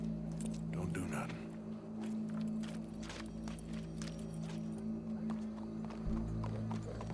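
Horse hooves clip-clop steadily in the video game Red Dead Redemption 2 over a low droning background, with muffled voices talking quietly underneath.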